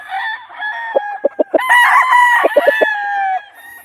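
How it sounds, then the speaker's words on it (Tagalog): A rooster from a line of brood stags crows loudly and close, with sharp clucks breaking in around the call and a second long crow following. "Gandang manok."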